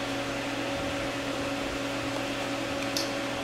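A running LEC 3 rotor demonstration machine gives a steady mechanical hum with constant tonal lines over broadband whir, alone and unchanging, with a brief faint tick near the end.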